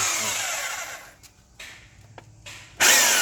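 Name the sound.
power drill drilling a hole in a water bottle cap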